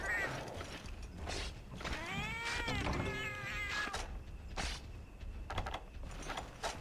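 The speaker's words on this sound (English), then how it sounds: "Cute cat, though." A cat meows in a long, rising and falling cry lasting about two seconds, with shorter clicks, creaks and mechanical noises from a video game around it.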